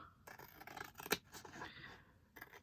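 Scissors snip through paper for a journal in a run of quick, crisp cuts with a sharper snip near the middle, quiet and close with no talking.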